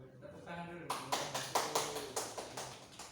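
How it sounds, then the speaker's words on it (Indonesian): Classroom clapping during a micro-teaching lesson, a rhythmic run of about eight sharp claps following a brief stretch of speech. "Nah, itu tepuk tangan dulu."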